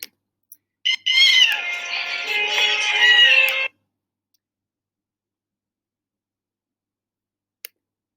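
Rescued kittens kept in a small bare cage meow in a dense, overlapping chorus for about three seconds, loud and close, with faint clicks before and after and silence around it.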